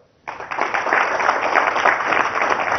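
Audience applause at an investment seminar, a full round of clapping that starts abruptly and holds steady as a dense, continuous patter with no voices over it.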